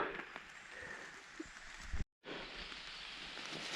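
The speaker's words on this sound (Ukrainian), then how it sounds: "Сьогодні непоганий день, хоч і дощик паде, сонечка нема." Light rain patters steadily in a forest during mushroom picking, a soft, faint hiss with scattered drips, broken by a brief moment of silence.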